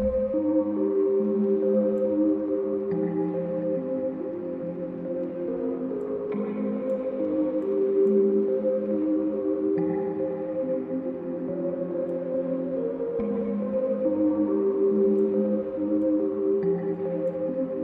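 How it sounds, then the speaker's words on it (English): A melodic synth line with a sustained pad runs through the Pancake 2 auto-panning plugin, a free mixing VST. The result is a steady, continuous tone that sweeps between the left and right channels, with no voices. "it's an auto-panning VST, and you just set the mix knob to the percentage you like, and you have an auto-panning effect"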